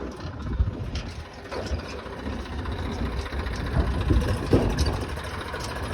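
A tractor engine runs nearby with a steady, low, chugging rumble that holds throughout at an even level.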